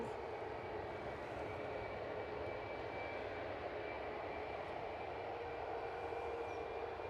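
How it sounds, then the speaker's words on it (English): A British Airways jet rolls for takeoff at Edinburgh Airport, heard as a faint, steady, distant engine roar that holds level throughout with no talking. "I think we've got British Airways on the roll."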